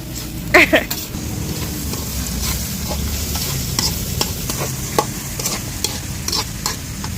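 Round-cut potatoes frying in plenty of oil in a pan, a steady close sizzle broken by repeated scraping stirs of a spatula, with a clatter near the start and some quiet talk.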